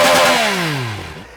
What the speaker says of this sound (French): avec cet échappement à l'aplomb des tympans, vous en prenez toujours plein les oreilles